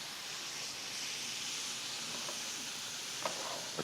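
Garlic paste sizzles and hisses in a hot pan as it is stirred into the oil, a steady frying hiss with a couple of faint utensil taps near the end.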